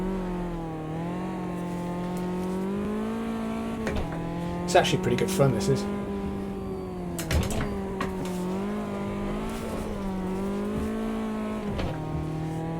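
A Caterham race car in Automobilista 2 drones steadily at high revs, pitch dipping and climbing through gear changes and corrections, with brief tire squeals; someone talks over the engine.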